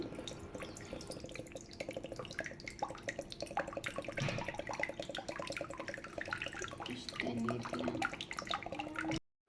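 Tender coconut water from a freshly opened coconut pours into a pan, making a steady close-up trickle and splash that keeps going for several seconds.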